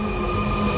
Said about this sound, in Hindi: ये चली है पटना मेट्रो।